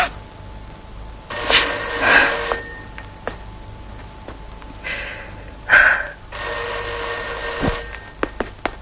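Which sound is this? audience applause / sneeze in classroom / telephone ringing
telephone ringing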